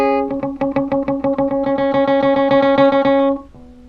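An electric guitar plays the intro of a song, starting with a quick run of clipped, palm-muted notes that settles into steady, sustained distorted chords before fading out on a final low note.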